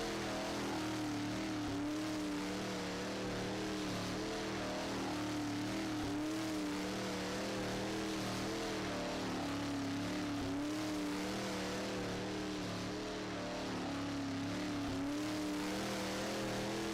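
A modified race car engine in the racing video game HammerDown drones steadily and loudly throughout, with a continuous tonal hum that wavers as revs rise and fall during laps, and no voices.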